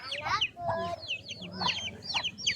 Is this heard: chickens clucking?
yes